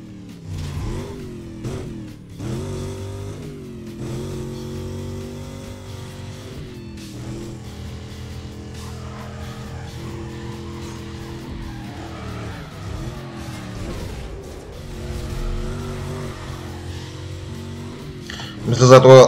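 Racing car engines in Need for Speed Carbon, a steady droning engine note that rises and falls with gear changes through a race, with tyre skids mixed in and a louder burst at the very end.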